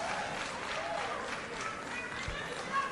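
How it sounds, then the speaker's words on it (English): Audience applause at a political meeting of organized labour and professional groups, welcoming a woman to the stage; steady dense clapping and crowd noise throughout, fairly soft and even, with faint voices mixed in. "Can we welcome her with a big hand of applause?"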